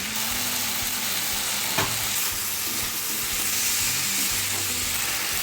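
Potatoes, Malabar spinach and fish head are being stir-fried in a pan, giving a continuous loud sizzle and hiss with occasional scraping as the food is turned. The sound is steady and close throughout.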